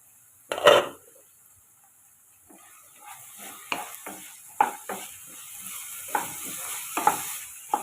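Chayote stir-fry is stirred in a pan with a spatula, making sparse, close scrapes and clinks against the metal over a faint sizzle, with no voices.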